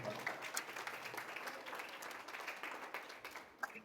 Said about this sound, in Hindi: मैं आप सभी से गुजारिश करना चाहूंगा कि जोरदार तालियों में एक बार